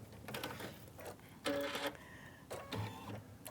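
A sewing machine stitches a quilt block, its faint whirring and mechanical rattling coming in short runs separated by quieter gaps, with a few brief electronic beeps in between.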